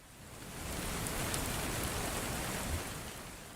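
Steady rain pours down as a dense, even hiss that swells slightly and holds at a moderate level throughout, with no voices.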